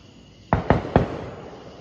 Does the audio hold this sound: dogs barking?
no